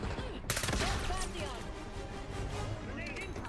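Automatic weapon fire in Call of Duty Black Ops 6, a sharp loud burst of shots near the start, then scattered shots under a steady game soundscape and voices talking.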